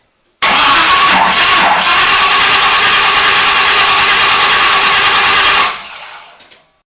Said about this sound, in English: we will bump the idle up to 2500 RPM for 20 minutes to break in the cam